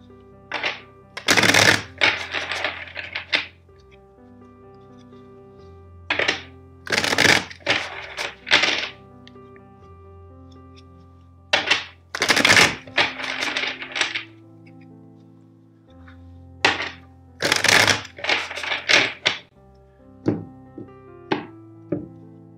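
Tarot cards being shuffled in four separate bursts of riffling and tapping, spaced several seconds apart, over a soft sustained music bed.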